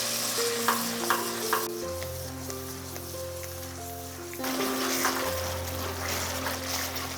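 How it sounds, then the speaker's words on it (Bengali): Onion, cashew, melon seed and poppy seed paste sizzles and fries in oil while being stirred for a rohu fish rezala, a steady close crackle with scraping stir sounds and some background music, no voices. "আমি মোটামুটি দু থেকে তিন মিনিট এটাকে বেশ ভালো করে কষিয়ে নিয়েছি"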